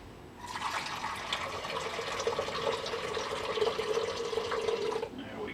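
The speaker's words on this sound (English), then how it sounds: "Get some fresh water here for him." Fresh water pours steadily into a snake's enclosure dish, a continuous splashing fill lasting about five seconds, close and fairly loud, then stopping abruptly with no talk over it.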